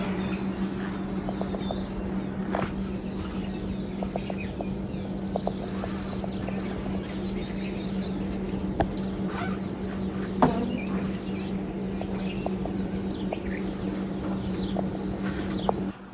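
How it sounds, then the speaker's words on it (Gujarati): Faint, scattered bird chirps drift over a steady outdoor background hum near a stone-built structure, with no one talking. "અહીંયા તો પક્ષીઓનો કલરવ પણ બહુ જ સારી રીતે સંભળાય છે."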